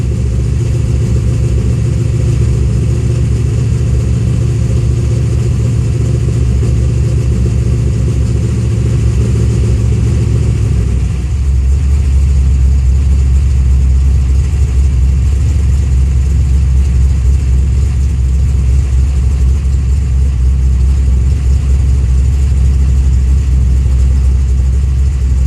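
A car engine runs loud and close, holding a steady tone before dropping to a lower, rougher idle partway through, a continuous drone with no talk.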